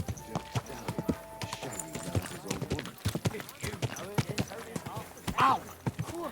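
Horse hooves clip-clop at a steady walking rhythm in a medieval video game, close and distinct, with scattered voices and game sounds over them.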